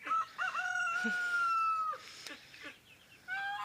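A rooster crows nearby, a long drawn-out call followed by a shorter second crow, with no voices.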